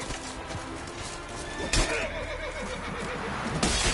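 Roach, a horse in The Witcher 3 game, gives a loud whinny over hoof clatter and action-game noise, with a sharp burst near the middle and another near the end.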